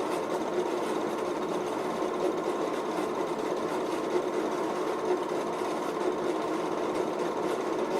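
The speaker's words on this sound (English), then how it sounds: "Here they're demonstrating the fine touch you can put on those big steam engines" A big steam engine running at an agricultural show, producing a steady, dense mechanical clatter and hum that stays even and loud throughout, without voices.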